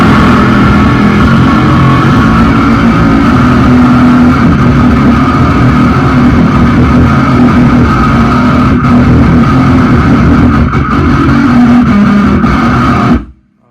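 Electric guitar through two stacked distortion pedals, a loud, dense, sustained fuzzy roar that holds steady for over twelve seconds before cutting off abruptly.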